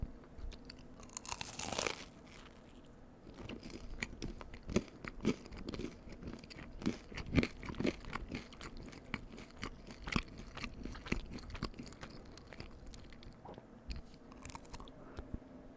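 Close, loud crunching and chewing of baked pizza bites with a crisp outer crust, with sharp bites followed by steady rhythmic mastication and no talking.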